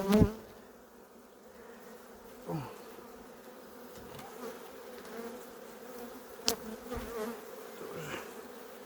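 A low, steady buzz of many honeybees at an open hive hums throughout as frames are inspected, with a few brief knocks and rustles near the start and middle; no talking.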